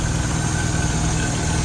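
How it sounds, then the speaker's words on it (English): A 1965 Jaguar MKII with a 3.4 engine and pancake air filters idles close by, a steady, even rumble with no talking. "Really nicely set up engine. Sounds good, drives beautifully,"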